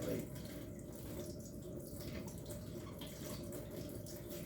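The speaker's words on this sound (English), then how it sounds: "once you rinse out your olives, just go ahead and start dicing them up" Canned olives rinsed under a running kitchen tap, a steady low rush of water with faint dripping, continuous and fairly quiet, with a voice murmuring now and then beneath it.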